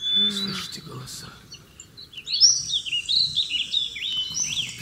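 Small birds chirp and tweet in quick, high, busy calls that go on steadily after a voice speaks briefly at the start.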